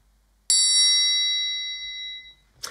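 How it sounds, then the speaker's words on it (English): A metal triangle is struck once, giving a bright, clean ring of high harmonic tones that sustains and slowly fades over about two seconds, followed by a faint brief knock near the end. "Look, my metal triangle."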